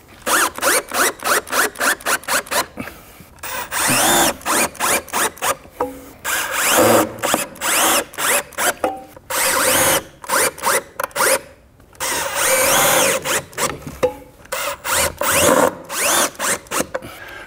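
A power drill drives screws to fix mounting brackets for a window shade, in repeated short, loud whirring bursts with brief pauses between them, close by and without speech.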